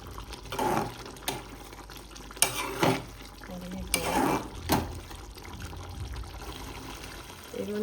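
Pepper powder mixed into a pan of chicken liver fry: wet, sticky stirring swishes and spoon scrapes come in short bursts, close by, under a voice explaining.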